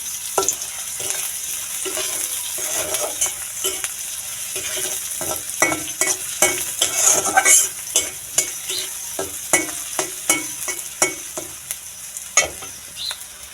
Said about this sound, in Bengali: এগুলো একটু হালকা লাল লাল করে ভেজে নিতে হবে।